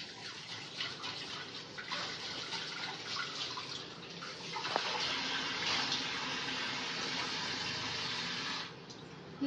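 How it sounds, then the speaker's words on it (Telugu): A wet cloth is swished and squeezed in water in a kitchen, sloshing and dripping in a steady wash of splashes that grows fuller midway, with no one speaking. "ఈ క్లాత్ని వాటర్లో బాగా మంచిగా పిండేసుకోవాలి"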